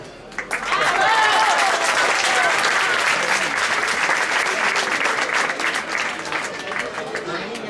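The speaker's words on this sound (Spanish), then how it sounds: "Este aplauso tamén para o solo que fixo Rexá" Concert audience applauding a solo by Rexá during a Galician traditional music performance, a dense, loud sustained ovation that swells quickly and holds, with some voices mixed in.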